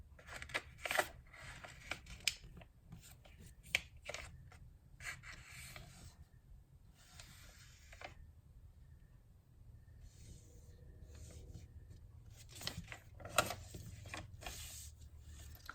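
Paper rubbing and rasping as it is creased and folded into an origami box, a continuous close scraping texture with sharp crinkly snaps scattered throughout, no talking.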